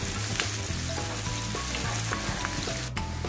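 Onions with minced meat and ginger-garlic paste fry steadily in a pan for an aloo qeema, a dense continuous sizzle with faint crackles and a few light utensil taps, close and loud with no talking.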